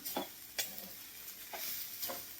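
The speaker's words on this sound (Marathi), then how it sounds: "हे बघा, मिक्स करायची आहे सगळी साखर अशी यामध्ये" Sugar being stirred into a beetroot barfi mixture in a pan, with a few soft scraping strokes and a faint sizzle, quiet and close.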